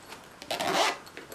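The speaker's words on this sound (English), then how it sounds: "Very nice zippers." A zipper is pulled along the padded gig bag of an Aklot 5-string mahogany tenor ukulele in one quick, close rasping run lasting about half a second, with a few faint rubbing sounds around it.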